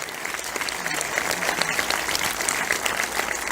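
An audience at a film festival screening and Q&A applauds and cheers, a loud, dense, continuous wash of clapping with scattered shouts, steady throughout the few seconds.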